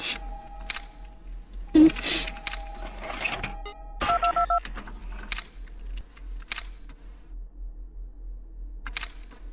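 Electronic phone ringing in the horror video game Five Nights at Candy's 2, heard as repeated beeping ring bursts with mechanical clicks and a low steady hum, spaced through the scene, with occasional brief voice sounds.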